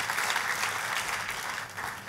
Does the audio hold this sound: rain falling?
no